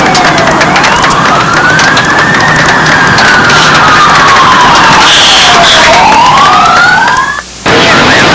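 Loud wailing sirens of fire trucks rushing to the Aloha Airlines Flight 243 Boeing 737 after its emergency landing, several tones rising and falling together over steady rumble, with a brief dropout near the end.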